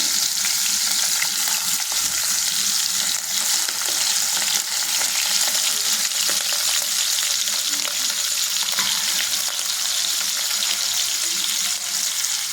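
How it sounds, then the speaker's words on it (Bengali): Tangra fish sizzle and crackle steadily in hot oil in a wok, a dense, loud frying hiss that runs unbroken from start to finish with faint clinks of stirring underneath. "এখন আমি মাছগুলো কড়াইতে দিয়ে দেবো"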